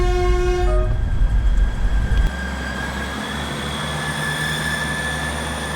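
A train in Scotland sounds its horn, then rumbles steadily past at close range, the rolling wheel noise continuing to the end.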